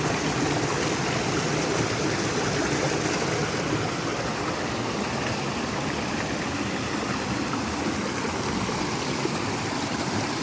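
Forest stream water rushes steadily in a rainy-season woodland, a dense, even, continuous wash that holds level for the whole stretch with no voices.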